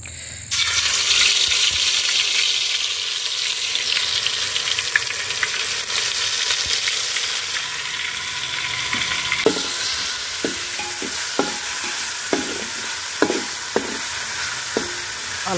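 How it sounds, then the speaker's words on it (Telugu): Hot oil sizzles loudly in a cooking pan for bagara rice, a steady crackling hiss that starts suddenly, then rhythmic clinks of a spoon against the pan mark repeated stirring. "నూనె అయితే బాగా మసులుతుంది."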